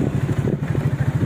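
A motorcycle engine idles at a repair shop, a close, steady low chugging with a quick regular pulse throughout.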